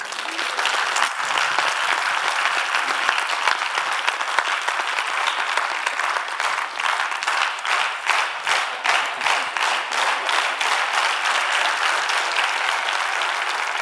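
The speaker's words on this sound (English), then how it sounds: "Another round of applause for Professor Mitra." A large panel discussion audience gives a long, dense burst of applause that settles into rhythmic, synchronized clapping toward the end.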